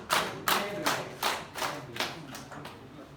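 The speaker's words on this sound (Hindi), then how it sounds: "आप जब इस तरह से ताली बजाते हैं" Hands clap in a steady, even rhythm, about eight sharp claps spaced roughly 0.4 seconds apart, close and clear with no talking.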